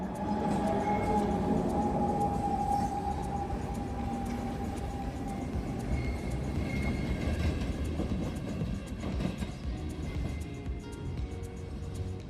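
The GoldenPass Express train pulls away through the Swiss Alps with a continuous rumble and rolling rail noise, plus a sustained whine early on, heard close and steady for the whole stretch.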